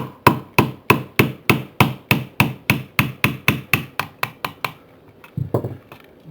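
A hammer strikes an 1/8 inch roll pin punch to drive a pin out of an S&W M&P pistol frame. Fifteen or so sharp metallic taps come in a steady rhythm and slowly fade, followed by a couple of softer knocks.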